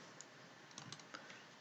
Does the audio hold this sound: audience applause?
no